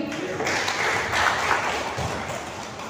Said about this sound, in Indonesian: Aplaus buat Pak Dwi.